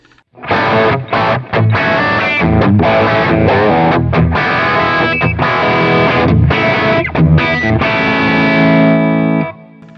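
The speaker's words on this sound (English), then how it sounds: "I love the wallop you get from the Super Distortion pickup, man. It's just a great sound." A heavily distorted electric guitar with a DiMarzio Super Distortion humbucker pickup plays thick, chunky chords and palm-muted riffs, loud and close, with a brief pause near the start.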